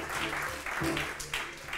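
A church congregation applauding, a dense continuous clatter of many hands at moderate distance, with voices mixed in.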